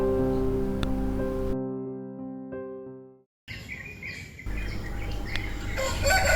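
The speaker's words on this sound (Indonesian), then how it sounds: "Suara ayam jantan bersaut-sautan" Roosters crow one after another with long, drawn-out calls, followed by clucking and other bird sounds in the background.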